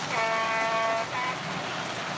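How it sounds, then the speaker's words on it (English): Short, slightly wavering tonal whistle from a model train, sounding for about a second and then a brief weaker second toot, over a steady background hum. "if you can hear that, it's changing tune when you blow it"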